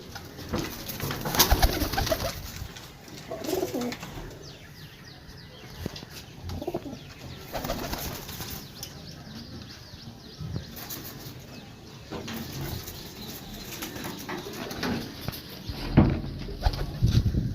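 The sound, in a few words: pigeons cooing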